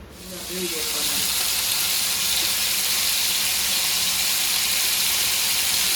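Sardines fry in oil in a pan, giving a steady, close and loud sizzling hiss that swells within the first second and holds unbroken to the end.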